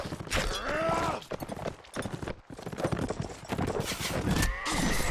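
Horse hooves galloping in a competitive online multiplayer battle game during a fight over a flag, with quick repeated clip-clop beats and whinnies mixed among dense battle noise, moderately loud throughout.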